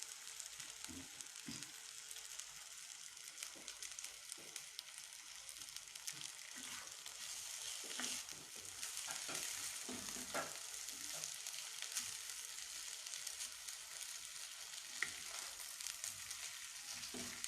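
Food frying in a pan until golden, a continuous bright hiss of hot oil with faint crackles and occasional soft knocks, steady and fairly quiet throughout, with no talking.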